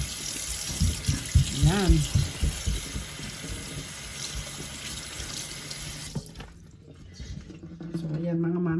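A kitchen tap runs into a sink being washed, a steady close rush of water with splashing and dripping, while someone talks over it, then the flow stops and quiet talk continues.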